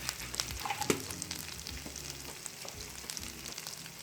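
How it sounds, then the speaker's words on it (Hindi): Spices and a curry leaf fry in oil in a karahi while cooking lobiya karahi, giving a steady close sizzle with small crackles and pops throughout. "1 पत्ता कड़ी शामिल करें और इसे ब्राउन होने तक फ्राई करें।"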